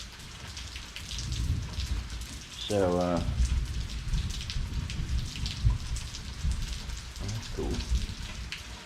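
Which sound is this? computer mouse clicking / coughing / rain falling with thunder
rain falling with thunder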